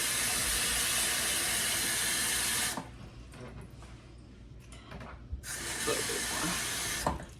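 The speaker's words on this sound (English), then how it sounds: "Gonna fill this up with a little bit of water." A cooking pot fills with water from a kitchen tap, a steady broadband rush for nearly three seconds, a quieter gap with faint clatter, then the loud stream resumes close by.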